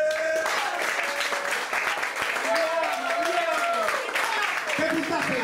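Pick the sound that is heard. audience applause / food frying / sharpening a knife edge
audience applause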